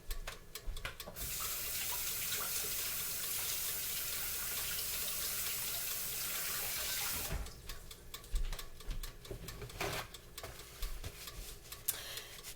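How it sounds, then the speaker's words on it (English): Water runs from a kitchen tap while someone washes their hands, a steady close hiss lasting several seconds before it shuts off, followed by scattered clatter and splashing of handling at the sink. "I'm just gonna wash my hands and be right back."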